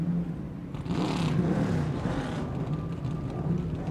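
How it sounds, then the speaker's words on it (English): Cadillac race car engines at the 2014 Pirelli World Challenge Grand Prix on the St. Petersburg street circuit rise into a blended roar, then settle to a steady, somewhat distant drone. "Drivers, start your engines."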